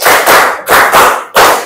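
A fifth-grade class clapping together in a counted rhythm, four or five loud, sharp unison claps close by, evenly spaced with brief gaps between them.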